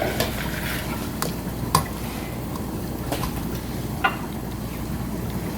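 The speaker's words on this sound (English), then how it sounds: "I'm gonna go ahead and start stirring as I'm adding my milk in" A spoon stirs pudding mixture in a pot as milk is poured in, giving a soft continuous swishing with a few light clinks against the pan, close up and without talking.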